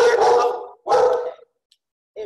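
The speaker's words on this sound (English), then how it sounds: "This is gonna be great for the recording because my dog is barking." A dog barks in two loud, close bursts, followed by a short silence and the start of a third yelp.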